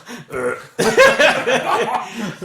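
A burp after eating pizza among friends, one short throaty eruption followed by voiced, laugh-like sounds at close range.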